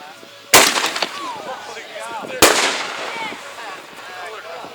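Fireworks go off outdoors after being lit: two loud, sharp blasts about two seconds apart, each trailed by crackling and high whistling tails.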